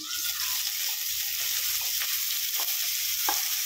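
Boiled mixed vegetables (green peas, beans, cauliflower and carrot) hitting hot oil in a pan, giving a steady close sizzle with a few soft stirring scrapes throughout.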